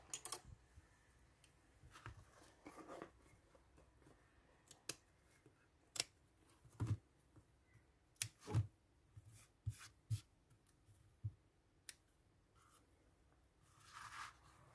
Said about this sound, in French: j'ai des petits ciseaux